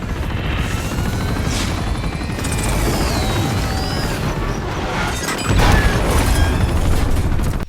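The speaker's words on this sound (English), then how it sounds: "A train to catch ends with you taking on a helicopter in a tank that's strapped to a moving train." Helicopter fight from the Uncharted video game, a tank strapped to a moving train firing at a helicopter: steady loud rotor and engine roar with crashes, metallic clanks and a heavy boom near the end.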